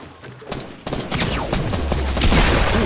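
Fortnite Battle Royale gunfire from an in-game firefight, with a dense, loud burst of shots and explosive cracks that build and sustain over a few seconds.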